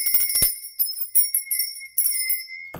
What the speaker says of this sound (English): I didn't ring my lady bell, did I?